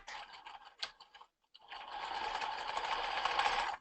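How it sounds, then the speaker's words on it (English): A few clicks and a short pause, then a sewing machine hums steadily at a regular stitch length. It runs alone, close and even, up the center back seam of a men's ballet tunic toward the neck. "I'm going to start with like a regular size stitch, like a sewing stitch, and I'm going to go all the way up my center back to the neck"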